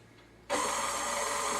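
An electric mixer blends the cheese and egg filling for a lasagna. Its motor kicks on abruptly and runs as a loud, steady whir to the end, with no one speaking.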